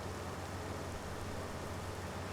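Steady rain in the farming game Farming Simulator 25, a continuous even wash of falling-rain noise that holds at constant loudness with no talk over it.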